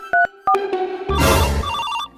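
A phone rings with bright electronic ringtone bursts: two short beeps, then a louder, fuller chiming melody that runs for about a second before ending, close and loud with no voices.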